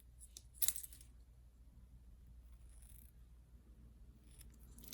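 Scissors cut the end of a satin ribbon at an angle while a paper gift bag is made. A single crisp, faint snip is heard up close, followed by quiet room tone.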